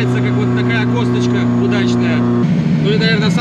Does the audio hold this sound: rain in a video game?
no